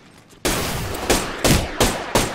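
Video game gunfire: five loud, close bursts of shots, the first starting after a brief quiet moment and the rest following in quick succession, each with a sharp attack and a short ringing tail.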